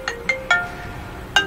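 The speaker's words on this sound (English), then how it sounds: "I need to mute my phone next time." A mobile phone ringtone sounds four sharp melodic electronic tones with a short pause before the last, close and clear, during a World of Tanks gaming session.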